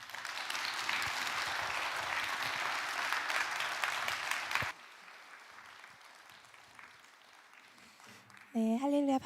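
Warm applause from a church congregation welcoming a guest speaker at a Friday Pentecost revival service, loud and dense for several seconds before dropping to a quiet room hum, then a voice begins speaking.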